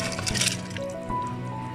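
Rice is poured into a pressure cooker of boiling water for mushroom biryani: wet pouring and splashing, a brief rush of sound followed by a steady simmering hiss.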